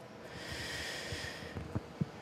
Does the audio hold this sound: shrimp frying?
no